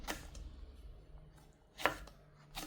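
A knife cuts two hot green chillies into small rounds on a board, giving three sharp, separate chops spread out over a quiet background, the middle one loudest.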